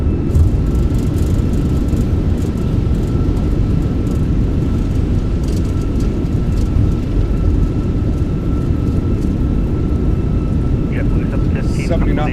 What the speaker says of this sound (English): Goes down gently, reversers are out, decelerating, touchdown zone